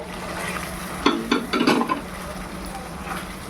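Prawns dropped into hot oil in a pan with spices cooked down, a burst of sizzling and clattering over a steady low frying hiss, close and fairly loud.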